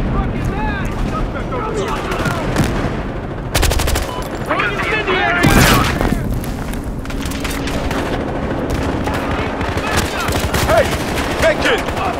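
Grenade blasts and sustained automatic gunfire in Battlefield Hardline, loud and dense throughout with sharp bursts and a big boom midway, while players shout over the din.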